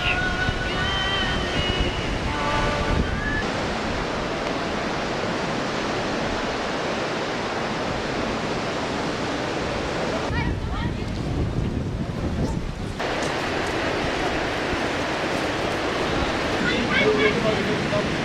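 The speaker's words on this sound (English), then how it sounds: "Netanya Beach." Waves roll in at Netanya Beach in Israel, a constant broadband surf wash heavily mixed with wind buffeting the microphone, with a voice at times.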